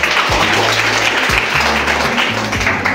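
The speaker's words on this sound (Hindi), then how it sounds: "ताली बजाएंगे इनके लिए।" Students clapping at a school science exhibition, a steady, loud burst of many hands filling the room, with low hum and a few thumps underneath.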